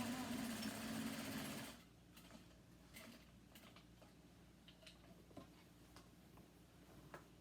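A home sewing machine stitches a fabric corner, a loud dense whir for nearly two seconds, then stopping with faint ticks and clicks as the work is turned.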